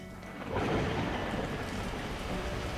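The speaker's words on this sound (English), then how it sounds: "At that moment, the heavens opened up, unleashing torrential rain." Torrential rain and rolling thunder from the Beacon Pines video game, a dense, steady roar of downpour that swells after a brief quieter start and stays loud without any voices.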